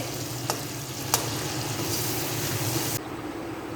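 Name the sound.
frying and stirring tomatoes with a spoon in karahi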